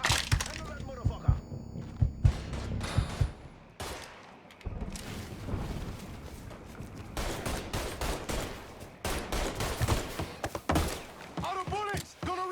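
Gunfire from the video game Mafia III, with repeated shots and bursts cracking amid game noise and shouting voices, some shots sharp and close, others muffled, spread irregularly throughout.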